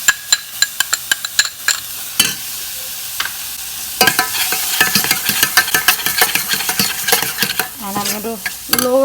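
Salted cottage cheese is stirred into a yogurt roux in a hot pan for an Albanian dish, with a spoon making sharp, repeated scrapes and clicks over a sizzle that grows busier and louder partway through.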